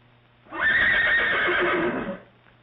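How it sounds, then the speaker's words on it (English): A horse whinnies loudly and close in an old film scene, one long neigh lasting over a second and a half, with no talk around it. "Where is his horse?"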